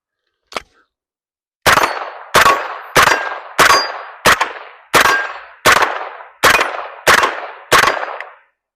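Ten loud, sharp rifle shots from a Palmetto State Armory JAKL fire at a steady, even pace after one brief earlier click, each crack decaying quickly with no talk.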